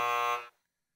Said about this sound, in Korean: 그런 부저 소리들인 것 같습니다.